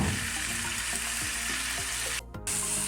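Spaghetti and vegetables dressed with soy sauce and vinegar fry lightly in a pan, producing a steady close sizzle with soft stirring, broken by a sudden short dip near the end.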